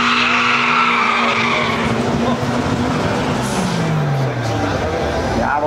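Open-wheel race cars scream past at a hill race in Fehring, loud and close, engine tones sweeping downward in pitch as they rush by, with an announcer speaking underneath.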